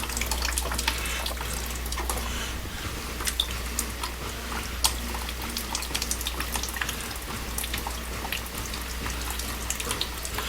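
Water sprays and hisses steadily from a leaking pipe fitting at a hose bib, a constant rushing noise with no pauses, close and fairly loud.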